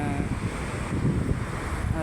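Sea surf and steady wind on Kuakata beach by the Bay of Bengal at low tide, a continuous low rushing wash with gusty wind noise on the microphone and no distinct breaking wave.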